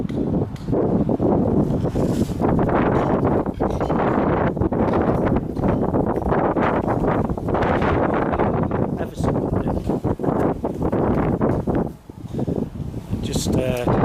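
Strong gusty wind at an abandoned fishing dock in Hull buffets the microphone in loud, continuous roaring bursts, with someone talking throughout.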